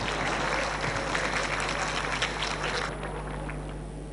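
Audience applause welcoming a teacher about to give a dharma talk: many people clapping steadily over a low electrical hum, thinning and softening after about three seconds.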